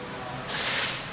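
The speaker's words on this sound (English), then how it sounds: "Spraying. A little lube on these clamps before we attempt to unclamp them." Lubricant sprays onto hose clamps in the engine bay of a 2004 Volkswagen GTI during timing belt and water pump work, a single brief hiss that starts abruptly and fades.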